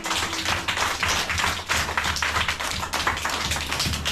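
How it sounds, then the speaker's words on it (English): A class of young children at a community school in Kibera claps for a classmate, a dense, steady patter of many small hands lasting a few seconds, loud and close, with no talking over it. "Aya, clap for Chantel."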